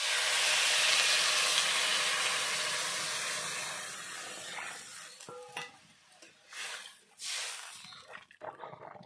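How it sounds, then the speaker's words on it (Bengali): Water is poured into a hot pan of fried foli fish curry base, setting off a loud, bright sizzle that slowly dies down into softer bubbling and a few scraping stirs. "দেখুন, এখন দিয়ে দেব পরিমাণ মতো জল।"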